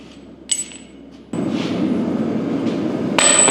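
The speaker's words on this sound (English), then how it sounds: "And then we need to get rid of this hardy tool." Blacksmith knocking a hardy tool loose from the anvil, a sharp metallic clink followed by a scraping, grinding rumble and a final bright ringing strike.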